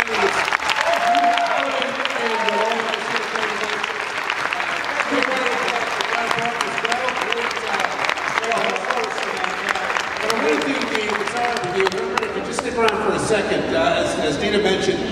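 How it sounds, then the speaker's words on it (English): Sustained audience applause at a comic convention held at Six Flags Great Adventure, honoring a guest star. Loud, steady clapping fills the whole stretch with crowd noise mixed in and no pauses. "Another big round of applause for a great star."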